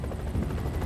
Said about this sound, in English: The chopper has exceeded its flying hours and has to return to base.